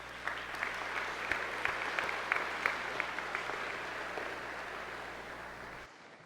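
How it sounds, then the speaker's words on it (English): Sustained applause from a high school graduation audience honoring the student speakers, steady dense clapping with a few sharper claps standing out near the start, fading slightly before cutting off abruptly near the end. "Let's give them an extra round of applause."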